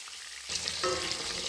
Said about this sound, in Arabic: خليته يتقلى على نار قليله وخليته ياخذ راحته في القليان